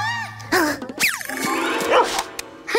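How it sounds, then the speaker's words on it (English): A dog in a backyard barks and yips in quick, sharp bursts, close and fairly loud, its calls rising and falling in pitch amid a few brief other noises. "No, doggy, go away!"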